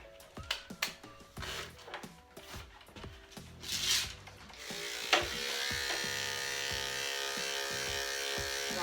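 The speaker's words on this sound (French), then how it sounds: "j'ai pas le choix, je vais le raser court" Electric clippers shaving a poodle's coat short, a close, steady motor buzz that starts with clicks and handling noise, then runs continuously through the rest.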